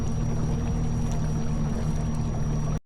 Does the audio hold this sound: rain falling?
no